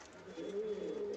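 A single soft pigeon coo from a caged pair for sale, brief and faint, heard close.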